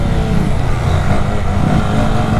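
Honda Grom motorcycle engine revving hard during a wheelie on a rainy street, a loud, steady buzzing drone held throughout at close range.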